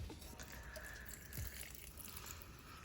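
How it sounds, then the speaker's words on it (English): Water poured or trickling onto potted house plants, including peace lilies, indoors at home; a soft continuous splash and dribble, fairly faint and steady throughout with no talking. "We need to water all our plants."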